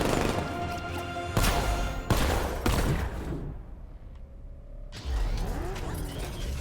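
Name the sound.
Batmobile tank firing missiles in Batman: Arkham Knight video game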